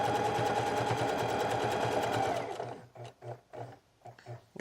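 A sewing machine runs steadily while stitching hoodie fabric, a continuous close mechanical whir for a few seconds that then breaks into short, separate stitching bursts.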